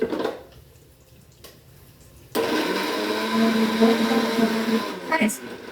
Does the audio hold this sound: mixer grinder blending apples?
yes